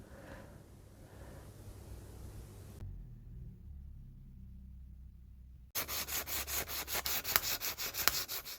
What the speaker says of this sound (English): I kind of got to say that I'm done with sanding.